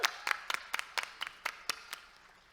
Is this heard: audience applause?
yes